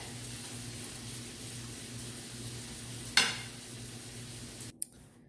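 Curried carrots, broccoli and peas cook in a pan with a steady low sizzle and bubbling, broken by one sharp scrape or clatter of stirring near the end.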